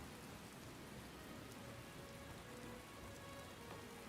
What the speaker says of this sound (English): Oh good, it's raining here too.